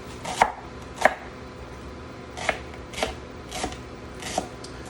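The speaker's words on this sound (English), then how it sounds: "cut them in half, cut them in real thin wedges," A knife slicing peeled onion halves into thin wedges on a board, sharp crisp chops landing in an irregular rhythm, about seven cuts spaced apart, close and fairly quiet with no talking.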